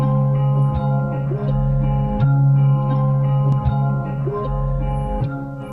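A music sample processed with a halftime effect at a full wet mix plays continuously, with steady sustained tones, a low bass layer and a few soft percussive hits spread across it, with no voices.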